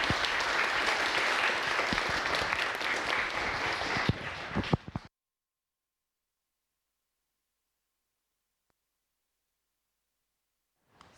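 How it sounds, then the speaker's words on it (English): An audience gives a warm round of applause to welcome Stephen Shaw, a guest speaker at an evening talk; dense, sustained clapping fills the room for about five seconds, then cuts off to silence. "Please give Stephen a round of applause."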